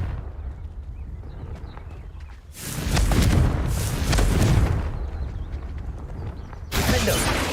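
A Confringo spell blast in Hogwarts Legacy: a loud, roaring explosive burst lasting about two seconds, a quieter stretch, then another sudden blast, over a low game ambience.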